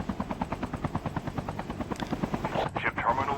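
A helicopter in Call of Duty Mobile battle royale throbs with fast, even rotor pulses, close and continuous throughout, with faint voice sounds mixed underneath.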